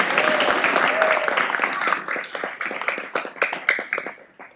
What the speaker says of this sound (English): Everyone give Zaki a big round of applause.